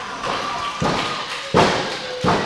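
A wrestler is slammed to the mat with a diamond cutter at a wrestling event: a run of heavy, dull thuds lands over steady background noise, with the loudest impact near the middle.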